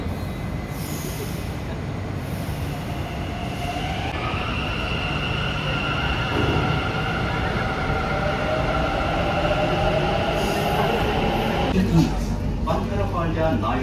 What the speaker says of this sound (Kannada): ಬಂಕರಪಾಳ್ಯ ನಾಯಂಡಹಳ್ಳಿ ಮೆಟ್ರೋ ಸ್ಟೇಷನ್.